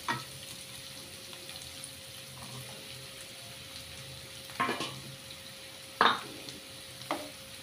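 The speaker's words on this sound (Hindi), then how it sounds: "ती मातशी फ्राय करपाची बरी" Capsicum frying in a pan for a Goan chicken chilli fry: a low steady sizzle runs throughout, broken by a few short stirring clatters near the end, with no one speaking.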